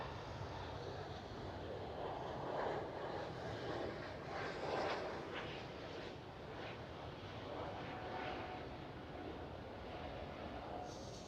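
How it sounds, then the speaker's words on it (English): A KLM Cityhopper Embraer E195-E2 rotates and lifts off at Amsterdam Schiphol, its engines a faint, distant steady rumble with slight swells and no talk. "KLM City Hopper E195 E2 rotating and liftoff"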